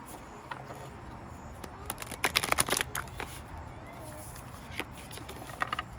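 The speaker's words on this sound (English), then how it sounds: "I'm going to pull some cards" A tarot deck is handled and shuffled close by, with soft papery riffles and flutters peaking in a brief burst, then a few lighter card slaps.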